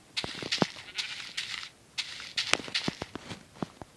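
Minecraft sheep bleat in short repeated calls mixed with soft clicking steps and game sounds, fairly close and steady with no voices.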